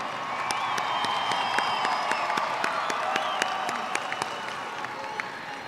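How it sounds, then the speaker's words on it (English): A high school graduation crowd honoring the class of 2022 claps steadily with a few whoops and cheers mixed in, a dense wash of applause that holds at a moderate level throughout. "Please give a round of applause."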